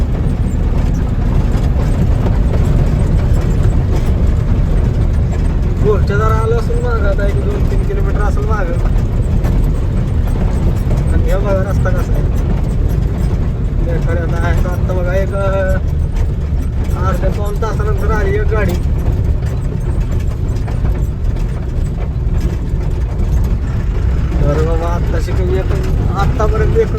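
A truck engine drones low and steadily as the vehicle creeps slowly along a rough, badly broken road at night, with someone talking intermittently over the rumble.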